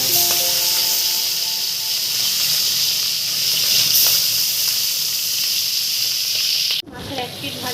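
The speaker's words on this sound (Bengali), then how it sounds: "এবারে আমি মাছগুলো ভালো করে ভেজে নেব।" Fish frying in hot mustard oil in a wok hisses and sizzles steadily up close, with a faint background tone, until a sudden clatter near the end briefly breaks the sound.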